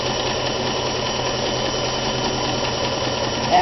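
A vintage Kenmore 158.14100 sewing machine runs a narrow zigzag applique stitch, giving a steady close mechanical whir and rapid clatter with no pauses.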